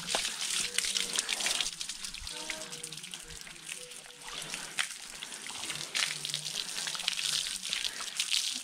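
Water from a hose spraying and splashing over a horse's coat to rinse off shampoo foam, a steady hissing spray with dripping and trickling, broken by brief pauses and faint background sounds.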